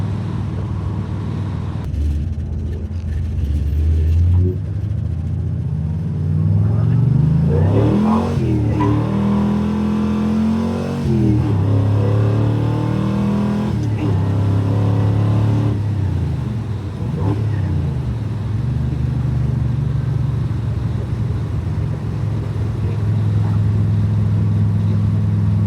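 A 1968 Chevelle with a 502 engine accelerating at half throttle, heard from inside: a deep V8 rumble climbing through the revs in several rising sweeps with gear changes, loud and steady throughout.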